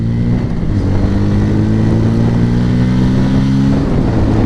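A 160cc motorcycle engine drones steadily and loudly up close, a continuous low motor tone through the whole stretch as the bike slows from 60 to a stop on its rear brake alone.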